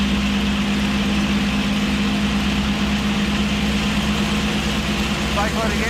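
The engine of a P-51 Mustang fighter runs steadily during ground checks as the propeller is cycled, a loud continuous drone with a constant low hum and no break throughout.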